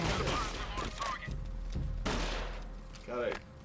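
Gunfire in a third-person shooter game themed on a Counter-Strike style mission, with bursts of loud shots cracking in quick clusters and a short pause between volleys, with a voice briefly heard alongside.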